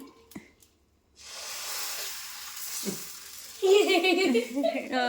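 Dosa batter poured and spread on a hot pan, a soft hiss of sizzling that rises after a brief quiet, then bubbling, crackling frying noises near and fairly loud, with voices chattering in the background.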